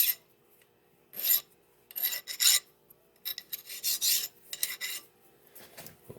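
Hand file rasping burrs off a machined metal part, a bearing mount for a small lathe's lead screw, in a series of short bursts of strokes with brief pauses between them, close and fairly loud, no talking.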